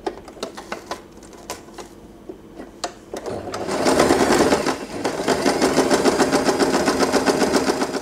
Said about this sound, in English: Just sew according to the template. Do a backstitch and leave an opening right here.